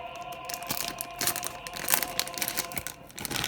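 Close, loud crinkling and crackling of a plastic bag holding toy soldiers being pulled and torn open, continuous for several seconds.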